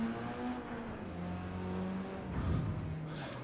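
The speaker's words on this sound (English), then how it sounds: "so that you guys can hear the car sounds" Car engine in the Forza racing game, a steady droning tone with harmonics that slowly shift in pitch as revs rise and fall, continuous and fairly close with no talking.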